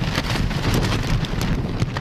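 Typhoon Saola drives wind and rain across Ap Lei Chau in southern Hong Kong, a loud, continuous roar of rain with gusting wind buffeting the microphone.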